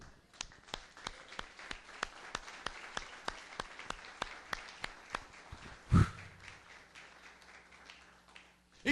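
A church congregation claps together in a steady rhythm of fairly faint, sharp claps that goes on for about six seconds. One thump follows, and the room goes quiet.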